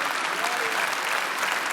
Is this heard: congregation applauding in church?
yes